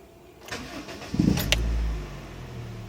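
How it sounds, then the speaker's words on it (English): A Honda Fit cranks and its engine catches, a short whir giving way to a steady idle, close and fairly loud in a quiet workshop setting during a crankshaft sensor diagnosis. "Please start the engine."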